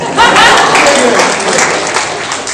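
An audience at a panel discussion breaks into loud applause, dense clapping that swells quickly and holds steady, with some voices mixed into the crowd noise.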